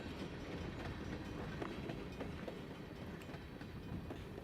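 A freight train locomotive rolls along the rails of New Mexico's Escalante Western railroad with a steady rumbling roar and faint rhythmic clatter of wheels, continuous and fairly close.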